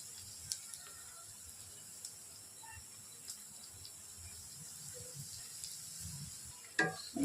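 Chicken frying with onions in a pan makes a quiet, steady sizzle with faint stirring scrapes, and a brief louder clatter comes near the end.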